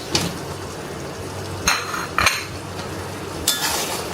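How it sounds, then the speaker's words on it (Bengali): A utensil scrapes and clinks against a pan while garlic pickle ingredients are stirred, with a soft sizzle underneath and a few sharp metallic knocks spaced a second or two apart. "তো এখন আস্তে আস্তে আমি সব উপকরণগুলো একটু ভালোভাবে নেড়েচেড়ে দিচ্ছি।"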